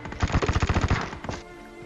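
Rapid burst of automatic gunfire in a video game firefight, about a dozen sharp evenly spaced shots in quick rhythm, fairly close, then abruptly stopping into quiet background.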